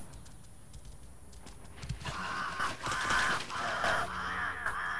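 A bird in The Lord of the Rings: Gollum gives a string of harsh, croaking caws, close and fairly loud, over a faint mechanical rattling and clicking in the background.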